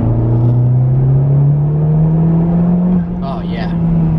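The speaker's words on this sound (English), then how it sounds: "You could also hear the blow off whenever I stop accelerating." A 2017 Honda Civic Type R turbo engine accelerates with a loud, close, steadily rising drone. It ends in a short airy whoosh of the turbo blow-off valve as the throttle lifts.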